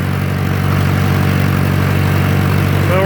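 An old 1966 John Deere tractor engine runs loud and close with its clutch pressed in, a steady throbbing mid-low drone held under throttle, with no talk over it.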